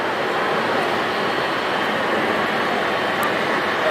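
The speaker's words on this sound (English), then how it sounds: "Turkish A321 taxiing by." A Turkish Airlines A321 airliner taxis at Zurich Airport, a steady, loud broadband jet engine roar that holds constant throughout without voices.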